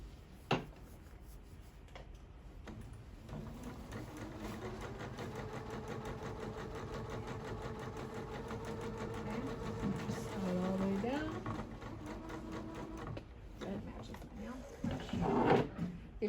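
A sewing machine stitches a long basting row on fabric for gathering, a steady rapid mechanical whirring hum running for many seconds, with soft handling clicks at the start and end.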